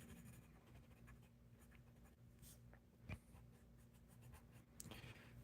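Colored pencil scratching across paper while coloring, a soft continuous scribbling rasp with small stroke changes, close and quiet, and a louder scrape near the end.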